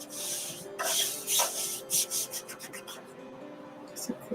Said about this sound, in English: I'm just going to kind of burnish my transfer down.